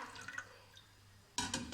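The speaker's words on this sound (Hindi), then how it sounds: "यहाँ पे हमने कुकर में थोड़ा सा पानी डाला" A little water is poured into a pressure cooker. Faint drips come first, then a short splashing pour starts near the end, close by and quiet, with no voices.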